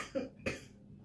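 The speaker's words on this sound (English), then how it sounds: "Excuse me, coughing." Two quick, close coughs in succession, short and dry, with a quiet background.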